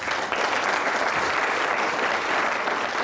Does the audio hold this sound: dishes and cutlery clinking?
no